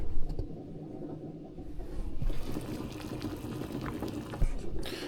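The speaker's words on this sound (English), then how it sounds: "And then our eggs are boiling," Water bubbles and simmers in a pot of boiling eggs, a soft churning burble with occasional light clinks, steady and close.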